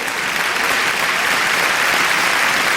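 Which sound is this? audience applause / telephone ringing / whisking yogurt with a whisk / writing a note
audience applause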